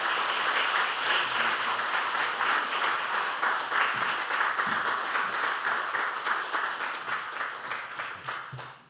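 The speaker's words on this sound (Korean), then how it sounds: "마음을 담아 큰 축하의 박수를 보내주시기 바랍니다." A church congregation applauds during a 45th-anniversary, ordination and retirement thanksgiving service, a steady, dense patter of many hands clapping that continues for about nine seconds and tapers slightly at the end.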